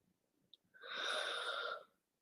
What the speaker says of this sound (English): I know that because I yawn a lot when I do energy work